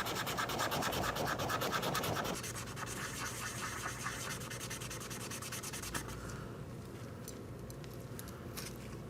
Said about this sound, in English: Okay, a little sanding. Straight to the 1000 grit wet sand.